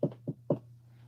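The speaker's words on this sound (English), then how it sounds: "Knock on wood." Three quick knocks on wood, the first two close together and the third a little stronger, set over a low steady hum in a quiet room.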